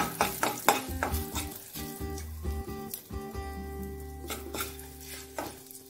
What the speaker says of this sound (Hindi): अब हम इसमें हल्दी पाउडर डाल देते हैं और इसे आधा मिनट के लिए भून लेते हैं